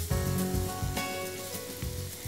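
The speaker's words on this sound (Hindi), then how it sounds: "प्याज को थोड़ा और ब्राउन होने देते हैं अभी।" Onions browning in oil for keema matar, a steady close sizzle with faint crackling and occasional stirring thumps, alone without talk.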